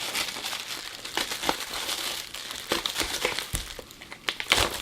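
A knife slices through packing tape on a mystery box of graded comics, producing close crackling, crinkling and ripping noises in irregular bursts with sharp snaps.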